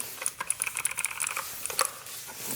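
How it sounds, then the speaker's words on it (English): Quick bursts of crisp, clicky keystrokes on a MotoSpeed CK61 mini mechanical keyboard tap out in irregular rhythm, close and fairly quiet. "The keys do sound very clicky."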